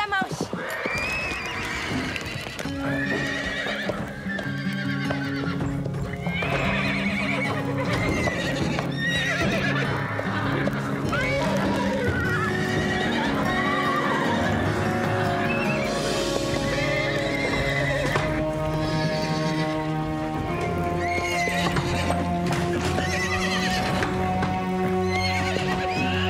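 Several horses neigh and whinny loudly over steady clip-clopping hooves, with repeated calls layered above music and background voices in an animated riding series scene.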